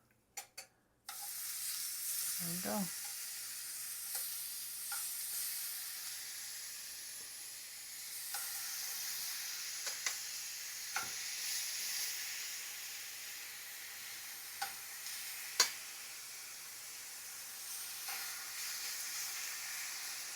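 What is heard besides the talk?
beef bulgogi sizzling while searing in a hot pan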